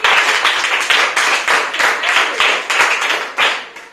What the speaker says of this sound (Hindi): चलिए ताली बजाइए।